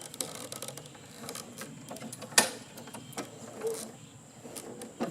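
Lawn mower starter rope pulled slowly to bring the piston to top dead center, giving a faint mechanical ratcheting and clicking with one sharper snap midway, quiet and close, with no voices.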